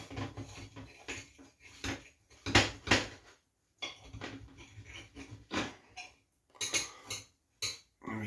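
A knife slicing open a bean curry toastie on a plate, heard as a series of irregular scraping, tapping and clinking sounds of metal on crockery, close by, separated by brief pauses.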